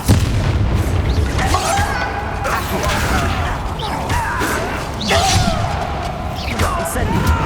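The Stupefy spell in Hogwarts Legacy bursts out in a fight with loud booms and whooshing magical impacts, heavy creaking and rumbling layered throughout, with no talking during it.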